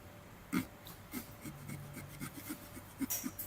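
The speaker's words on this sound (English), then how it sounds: "So this is just like sawing it off here." Quiet, rhythmic rasping strokes of a saw cutting through a pumpkin, close by, repeating about every half second.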